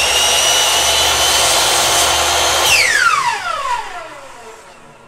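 A chop saw spinning down after a cut through wood for a coat and hat rack: a steady loud whine that drops in pitch and fades over the final seconds, with no talking.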